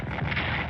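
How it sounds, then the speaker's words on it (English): Artillery fire in the World War 1 strategy game Strategic Command World War 1 comes as one short, loud, rumbling blast heard close and alone. "And here comes the artillery."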